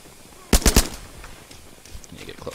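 Gunfire in The Culling video game: a tight burst of three loud shots in quick succession, followed by quieter game ambience and faint scattered sounds.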